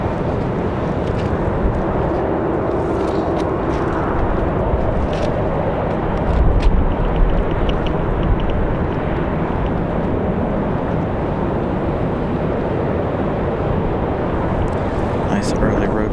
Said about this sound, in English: Nice early rotation for the Republic Airways.